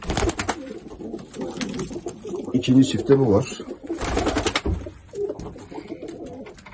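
Pigeons coo softly in a loft while someone talks over them, wing flutters and shuffling mixed in.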